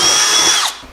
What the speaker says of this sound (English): Drill a hole into the middle where we can start